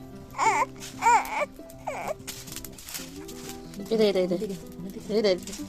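Infant crying in short, repeated wailing bursts close by at home, with an adult's soothing voice talking between and over the cries.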